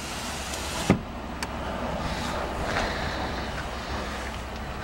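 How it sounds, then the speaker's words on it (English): A 2013 Ford F-150's rear electric window motor whirs near the idling engine, with a sharp click near the start and a softer tap shortly after. "So there's windows back here that go up and down."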